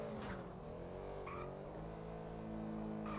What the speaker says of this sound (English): I fucking love this engine.